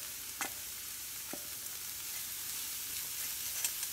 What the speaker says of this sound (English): we're going to add the cauliflower rice and continue to saute.